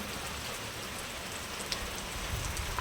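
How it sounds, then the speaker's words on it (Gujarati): Steady rain falls and patters on surfaces in a continuous hiss, soft and even, with a few louder drops near the end. "વરસાદ ફરીથી ચાલુ થઈ ગયો છે"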